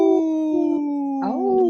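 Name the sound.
person imitating a wolf howl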